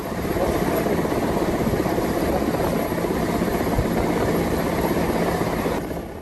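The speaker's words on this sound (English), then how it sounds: "A Mi-17 chopper of the IAF was sent for the rescue mission." An Indian Air Force Mi-17 helicopter flies during a flood rescue, its rotor thudding loud and steady with dense engine roar throughout, with no pause.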